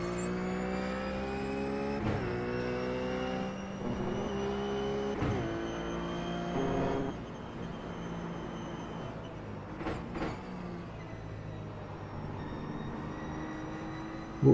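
A RUF race car engine at Donington National circuit in iRacing, revving steadily through gear changes with sharp shifts, then easing and rising again, loud and close with no talk.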